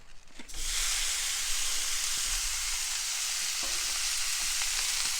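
One pound of ground beef hits a hot Blackstone griddle with a sudden burst, then settles into a steady, loud, close sizzle with a few faint scraping clicks underneath.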